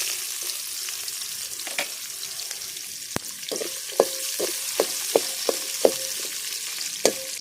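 Steady oil sizzle of fenugreek seeds and onions frying in a pan, with occasional sharp pops and light utensil taps scattered throughout.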